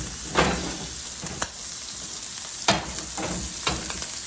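Chicken breasts sizzle in oil in an oven-proof skillet, a steady frying hiss broken by a few sharper crackles and pops, close and moderately loud with no talking.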